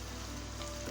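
Sweet diamond cuts fry in hot oil with a soft, steady bubbling hiss, faint and continuous throughout, with no talking.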